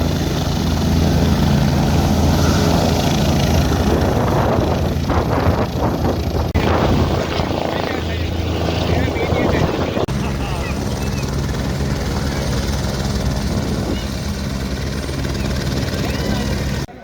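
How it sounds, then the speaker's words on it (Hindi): Helicopter taking off from the Kedarnath helipad in the mountains, a loud continuous rotor and engine roar heard up close throughout, with wind buffeting and a voice talking over it. "देखिए, दो हेलीकॉप्टर नजर आ रहे हैं,"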